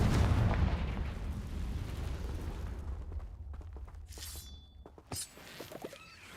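A Confringo fire spell explosion in Hogwarts Legacy, a heavy rumbling blast that slowly fades, followed by a few sharp cracks and pops near the end.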